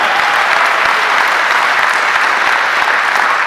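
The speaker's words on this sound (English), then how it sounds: "Give a round of applause for our governor," Dense, steady applause from a political rally crowd welcoming Delaware's governor, Jack Markell, a continuous wash of many hands clapping at full volume with no voices standing out.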